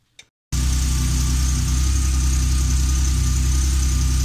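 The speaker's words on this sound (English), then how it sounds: "Let's see if the car will fire up." A short click, then an air-cooled Porsche 911 engine turns over and catches, settling into a steady, loud idle with a low rumble right up close.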